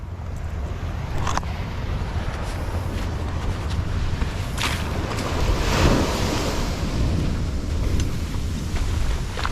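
Ocean surf rushes in a continuous wash with gusts of wind buffeting the microphone, one wave swelling and breaking a little louder partway through.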